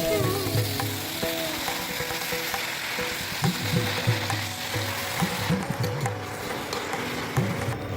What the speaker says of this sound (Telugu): తర్వాత కళాయిలో 1 పెద్ద స్పూను నూనె వేసి గోంగూర వేపుకుందాం.